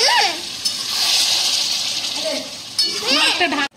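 Chicken and tomato are stirred in a hot pan, with a continuous loud sizzle and scraping that swells and fades over a few seconds, and a brief voice near the start.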